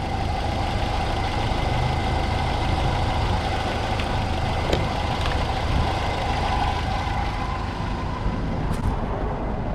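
A Land Rover Series 2A engine, newly converted from a dynamo to an alternator, runs with a continuous low, rough drone while the vehicle drives, and the level stays steady throughout.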